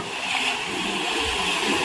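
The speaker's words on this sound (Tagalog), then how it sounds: "Malaking alon." Rushing floodwater during a storm, a big wave surging past in a continuous loud broadband roar and wash of water.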